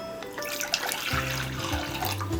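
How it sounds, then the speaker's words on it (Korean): Cold water for instant ramen pours steadily into a pot on a gas stove, a close, continuous splashing stream with no talk. "찬물로 가스레인지에 불을 켜주고 물을 붓습니다."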